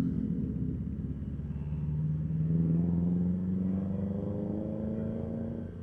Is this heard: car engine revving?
yes